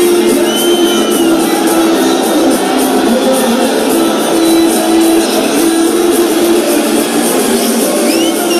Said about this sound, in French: On les entend, les supporters.